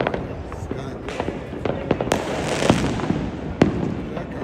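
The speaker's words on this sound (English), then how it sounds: "got an hour to set off all those fireworks, so we'll see how it goes" Fireworks and firecrackers go off on New Year's Eve in Trinidad, a crackling barrage of pops and several sharp louder bangs, near and far, with a steady background rumble and faint voices.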